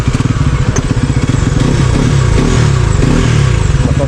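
A Bajaj Pulsar NS 400Z motorcycle engine, the larger-engined model, running and revving close up on a race track, with a loud, steady, throbbing beat and some mechanical clatter throughout.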